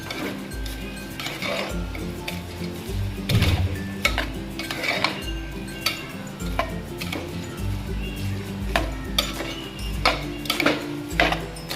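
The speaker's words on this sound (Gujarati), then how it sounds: "ફરીથી મિક્સ કરી નાખશું બધું" Washed rice being mixed into tawa pulav masala in a pan, heard as close, repeated clinks and scrapes of the spoon against the metal. The strokes come in an uneven rhythm with no talking.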